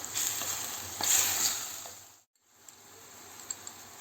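Menemen with butter sizzles steadily in a pan, a close bright frying hiss that swells, briefly cuts out, then returns with a few small ticks and clicks.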